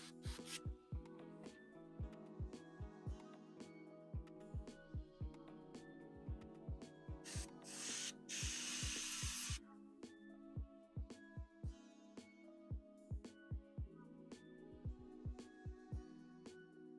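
An airbrush, freshly cleaned, gives a short burst of paint-spraying hiss while painting a 3D-printed Mr. Sinister figure, a couple of seconds long in the middle and set against steady plucked background music.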